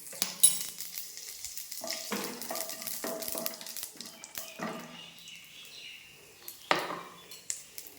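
Mustard seeds and dried red chili fry in hot oil for a sour taro-flower dish, a soft, close sizzle broken by metallic clinks and scrapes of a stirring spoon against the pan.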